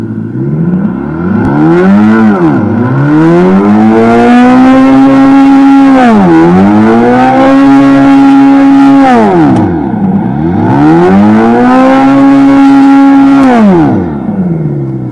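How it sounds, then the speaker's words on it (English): Synthetic engine sound from a programmable sound system on a custom eBike, loud and close, rising and falling in three long revving sweeps with harmonic tones climbing and dropping, as from thumb throttle blips. "you can basically program it up to make a different engine noises"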